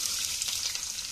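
Garlic sizzling in hot oil with mustard and fenugreek seeds, a bright steady hiss with faint crackles, close up and continuous through the short moment.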